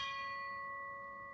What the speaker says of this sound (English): Bells ring at Lakeside Baptist, honoring the nearly 400 first responders who lost their lives